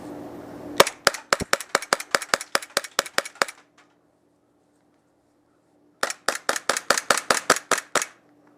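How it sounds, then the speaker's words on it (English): A KSC Glock 19 gas blowback airsoft pistol fires two rapid strings of sharp cracking shots, about fourteen and then about twelve, close and loud with a quiet gap between the strings. "it starts out shooting really quietly and low, and then the spring almost kicks in and starts releasing more gas"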